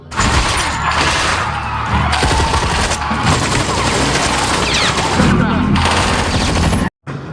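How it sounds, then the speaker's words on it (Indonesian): Rapid bursts of automatic gunfire and single shots ring out continuously, loud and close, with crashing impacts in a chaotic shootout during a bank robbery in a film. "hingga terjadilah aksi tembak-tembakan"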